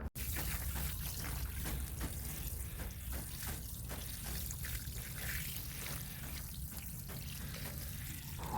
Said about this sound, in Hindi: अब डालते हैं पानी रेत में।